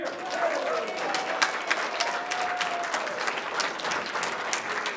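Applause from the audience at a city council meeting, a steady patter of many hands clapping at moderate distance for several seconds, with no talking over it.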